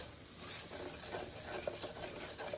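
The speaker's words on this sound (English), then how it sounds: "we're going to cook this flour for a couple of minutes" Flour cooking in melted butter in a pan as the base of an enchilada sauce, giving a steady soft sizzle with faint stirring scrapes, close and even throughout.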